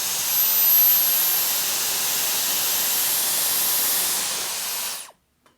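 A hot air styler with a 1.2-inch barrel attachment blowing on its highest heat setting and second airflow, a loud steady rushing hiss that holds for about five seconds and then cuts off abruptly.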